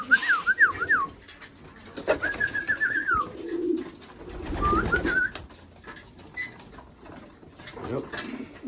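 Racing pigeons coo in their loft in short repeated warbling phrases, close and clear, with someone talking in the background.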